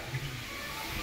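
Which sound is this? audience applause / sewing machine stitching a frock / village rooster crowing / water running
water running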